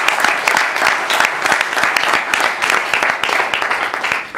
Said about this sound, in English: we need to applaud their efforts